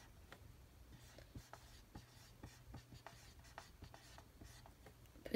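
Handwriting on paper makes soft, close scratching strokes in an uneven rhythm, with small taps and pauses between letters and words.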